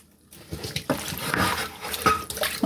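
Salted nasturtium and sorrel leaves squeezed and rinsed under running tap water in a sink, a close, steady splashing and trickling that rises after a short quiet start and runs with uneven surges.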